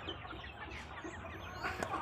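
Free-range village chickens cluck on a farm in Magetan, East Java, with soft, scattered clucks from a small flock nearby, quiet and steady with no talk.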